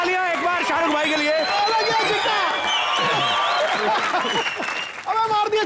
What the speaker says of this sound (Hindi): जोरदार तालियां एक बार शाहरुख भाई के लिए।